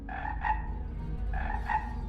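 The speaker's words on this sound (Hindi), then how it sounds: "प्यासे मेंढक भी टर्राने लगे।" Cartoon frogs croak in two short paired bursts, a quick double call, a pause, then another double call, mid-loud over a low background rumble.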